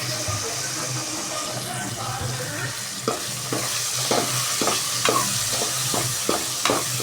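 Tomatoes sauté in a pan for chicken 65, giving a steady sizzle close by, broken by sharp scraping and knocking stirring strokes that come more often in the second half.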